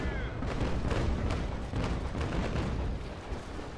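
Frigate cannons fire in a naval sea battle in the Naval Action video game, a rolling broadside of deep booms close together, loud and near, with no voice over it.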